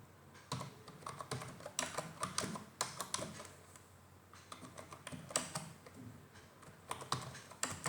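Rapid, irregular keystrokes on a computer keyboard during a class on writing a program, with quick clicks and short pauses, close and fairly quiet.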